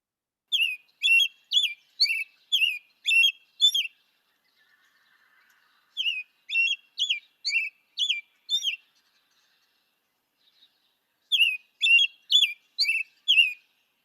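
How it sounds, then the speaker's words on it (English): American robin song: clear, fairly close phrases of short liquid whistled notes in three separate bursts of five to seven notes each, with quiet pauses between and no talking. "And now the robin."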